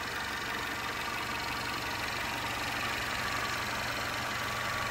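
A 2019 Mercedes-Benz GLC 250 petrol engine idles steadily with a low, even hum and faint knocking texture, constant in loudness throughout with no voices.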